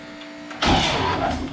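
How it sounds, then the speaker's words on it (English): A Toyota Xtracab pickup's fuel pump primes with a sudden electric whir that starts after a short quiet moment and keeps running steadily, close and fairly loud, inside the cab. "There's the fuel pump."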